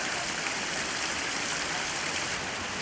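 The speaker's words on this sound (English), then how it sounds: "Here's where the water finally comes down and makes that little waterfall by the suspension bridge." Small waterfall near the Capilano Suspension Bridge, a constant dense rushing hiss of falling water, steady and close with no breaks or voices.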